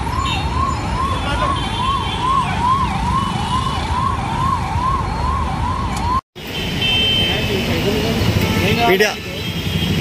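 An ambulance siren wails in a steady, looping up-and-down pattern, loud and continuous, held up in traffic, with street noise and voices around it; the siren cuts out briefly and then returns with a rising sweep.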